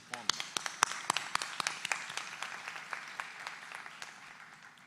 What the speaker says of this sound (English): please join me in applauding University Voices again for that wonderful performance